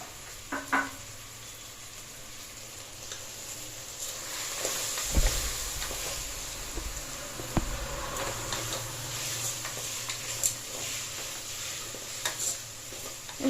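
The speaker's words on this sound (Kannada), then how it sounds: "ಎರಡು ರೀತಿ ಚೆನ್ನಾಗಿ ಫ್ರೈ ಮಾಡ್ಕೊಳ್ಳಿ" Mixed vegetables fry with turmeric, chili powder and salt in a pan, a low steady sizzle broken by occasional spatula scrapes and clinks against the pan, fairly close.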